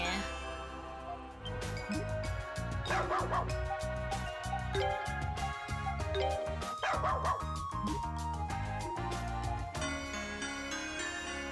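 Dog barking in the video game Ys: Memories of Celceta, a series of short yips and whimpers mixed over busy game music and effects, fairly faint and rhythmic.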